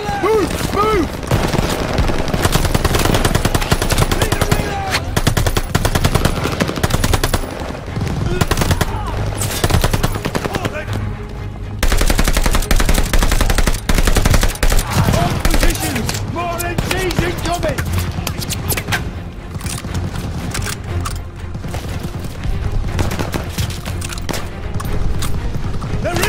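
Call of Duty: Vanguard battle with dense, continuous machine-gun and rifle fire, loud overlapping bursts running throughout alongside heavy combat noise, with shouted voices over it.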